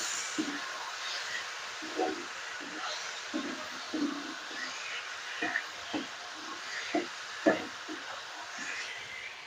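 Spice mix being stirred into potatoes in a pan, with a steady sizzle and a series of soft, irregular knocks and scrapes from the spoon against the pan, moderately close.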